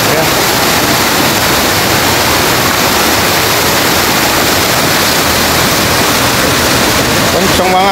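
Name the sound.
roaring floodwater of a river after heavy rain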